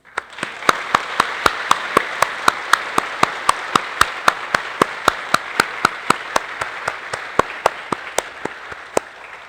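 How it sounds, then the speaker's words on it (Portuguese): A church congregation in Balneário Camboriú gives a round of applause welcoming two children as new members, a continuous patter of many hands punctuated by sharp, evenly spaced loud claps from one nearby person, steady throughout. "a comunidade acolhe essas duas lindas crianças como mais novos membros aqui em nossa comunidade, com uma salva de palmas"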